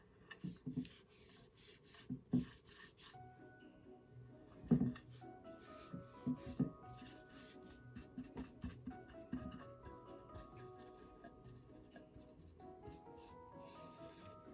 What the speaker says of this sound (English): gave it a little sand because I love how with chalk paint it gets a little bit silky after you sand it